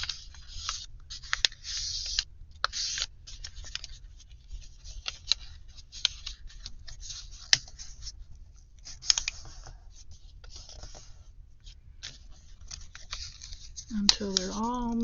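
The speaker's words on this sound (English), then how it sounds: "You're just folding each of your folds in half again." Origami paper pockets are folded in half again, soft crisp rustles, taps and creases of paper repeating close up at a quiet level, with a brief voice near the end.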